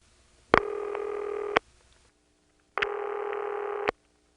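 Two separate long electronic ringback tones from two Stromberg ringing machines of the same model, in a 1978 Siemens motor-switch telephone exchange in Ocala-Silver Springs, Florida, each about a second, with slightly different pitch and a click at the start and end of each.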